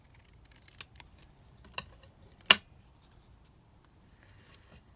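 Scissors trim craft material in a few separate snips, sharp close clicks with a louder cut near the middle and quiet pauses between.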